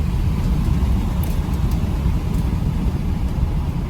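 A 2017 Ford Powerstroke 4x4 pickup launches hard with wheel hop: a loud, dense, rumbling roar that holds steady throughout, with no clear separate bounces.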